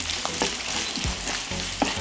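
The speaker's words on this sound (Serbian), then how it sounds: "Kad se ulje zagrejalo, dodajem seckani crni luk i pržim ga dok ne omekša." Chopped onion frying in hot oil in a wok, a continuous close sizzle with a few light clicks and stirring scrapes, no talking.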